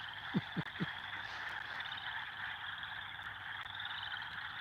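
Three quick low croaks near the start, then a steady high chorus of frogs or insects trilling on through the rest.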